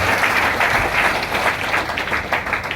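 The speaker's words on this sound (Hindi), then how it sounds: "एक बार जोरदार तालियां पार्ट टू के लिए भी।" Audience at a core training session giving loud, sustained applause, a thick, continuous roar of many hands clapping close and strong from start to finish.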